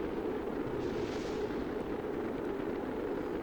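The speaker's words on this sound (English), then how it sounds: "Many explosions." Rumbling, continuous explosion noise from the video game Kerbal Space Program as a craft descends onto the planet Eve, a steady dense roar at moderate level with no speech over it.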